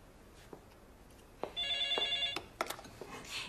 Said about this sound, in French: Allô, ici la maison Rappel